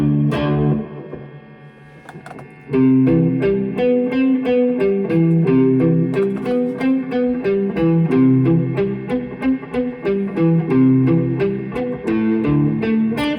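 Distorted electric guitar plays a quick, steady run of short, palm-muted chugging notes, loud and rhythmic with no voices.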